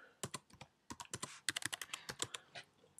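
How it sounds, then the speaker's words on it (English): Keys on a computer keyboard tapped in quick, irregular bursts while a password is entered, close and crisp, with short pauses between clusters of keystrokes and no talking. "Then we're going to just type in our password."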